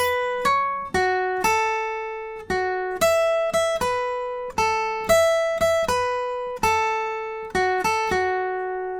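Guitar plays the first line of a song's tab as a steady run of single plucked notes, each ringing out and fading before the next, close and clean with no voice.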